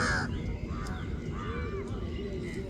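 Several crows cawing on Varsoli Beach while fighting, harsh overlapping calls over a steady rumble of surf and wind, fairly close but not loud.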